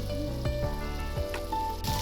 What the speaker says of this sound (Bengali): আমি এটাকে মশলার সঙ্গে কাঁকড়াগুলোকে ভালো করে ভেজে নেব